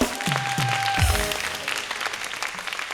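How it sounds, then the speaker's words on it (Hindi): A studio audience claps at a talk show celebrating its fiftieth episode, a brief burst of applause that opens with a few louder low thumps and then tapers off over about three seconds. "तालियां!"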